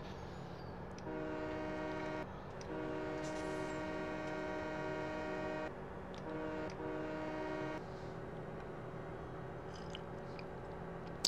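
A train in the Farming Simulator 17 game starts up and runs down the tracks, giving a steady rumbling drone with layered horn-like harmonic tones that cut in and out over several seconds.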